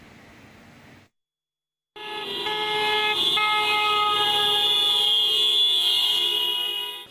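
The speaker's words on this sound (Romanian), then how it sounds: "Claxonând, taximetriștii l-au petrecut pe ultimul drum pe colegul lor." Taxi car horns honking together in a funeral convoy leaving Chisinau, a loud sustained blaring chord of several horns after a short silence, holding steady for over five seconds.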